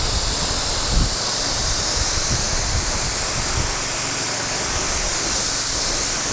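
Steady broadband water spray rinsing a long wooden training deck, a continuous loud hiss with little variation and a few low thumps near the start, no voices.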